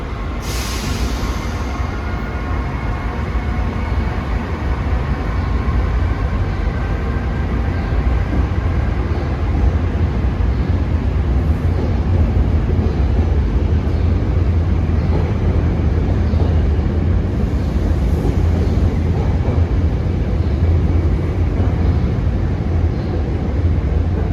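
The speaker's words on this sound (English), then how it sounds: "There he goes, 9591 for Thorndale" Commuter train 9591 for Thorndale passes through Wilmington, Delaware, producing a long, unbroken, loud rumble of rolling cars nearby, holding steady for over twenty seconds with no talk.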